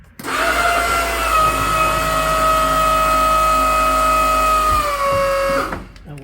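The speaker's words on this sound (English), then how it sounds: "now we'll push the button to close the door" An electric motor drives an aircraft door closed, a steady loud whine with sustained tones that holds for about five seconds, sags slightly in pitch near the end and stops with a soft clunk.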